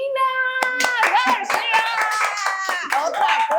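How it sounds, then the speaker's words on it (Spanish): An audience at a youth leadership event claps in a burst of brisk hand applause, close and lively, with children's voices and chatter mixed in over the clapping. "Otro aplauso."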